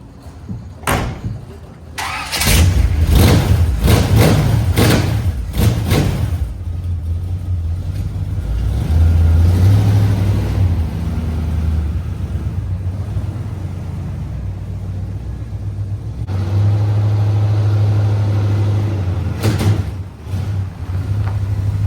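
A Chevrolet C10 truck is moved around a shop: a series of sharp knocks and clunks opens, then a low engine idles and rumbles, rising in two louder revving stretches, with a few more knocks near the end.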